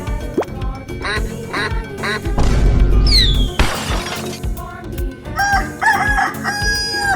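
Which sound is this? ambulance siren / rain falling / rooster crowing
rooster crowing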